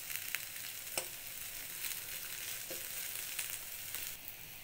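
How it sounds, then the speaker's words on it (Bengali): Ivy gourd (kundru) frying in a pan, a steady high sizzle with a few sharp crackles and stirring scrapes, close and fairly quiet, with no voices. "কুঁদরির ভাজাটা হয়ে গেছে,"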